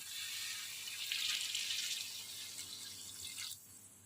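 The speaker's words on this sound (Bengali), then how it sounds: "এখন আমি এর মধ্যে দিয়ে দেবো 2 কাপ জল" Water pours into a pan of partly boiled yardlong beans and potato as a steady, soft splashing stream that lasts about three and a half seconds, then suddenly cuts off into quiet.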